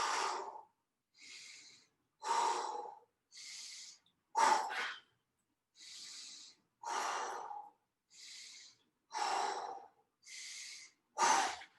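Rhythmic breaths, in and out, about a dozen in a steady cycle of roughly one per second, come close and clear against silence during single arm overhead presses.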